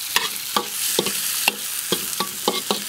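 Wood ear mushrooms tossed in a hot pan, a steady sizzle punctuated by about eight rhythmic spatula scrapes and clacks against the metal, heard up close with no speech.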